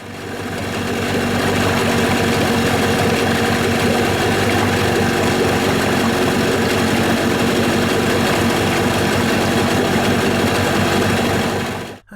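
A Mariner 25HP two-stroke outboard engine runs steadily with cooling water pumping, giving a loud, constant, buzzy drone that holds for about twelve seconds before cutting off abruptly.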